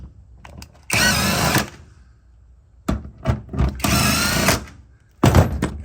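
A power drill drives factory 15 bolts during a seat install on a 1988-99 Chevy/GMC OBS truck, running in three loud close bursts separated by short pauses.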